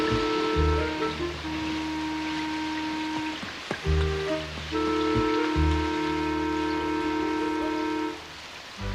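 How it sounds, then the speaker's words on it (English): A heavy afternoon downpour, a steady hiss of rain that runs under sustained musical tones and fades slightly near the end. "until one afternoon she got caught in a downpour"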